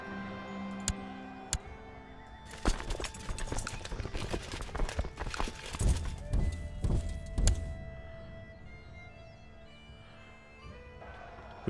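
Horse hooves clip-clopping in the medieval strategy game Crusader Kings II, a cluster of clopping thuds and knocks at moderate level amid game sounds, preceded by a couple of isolated ticks and trailing into quiet.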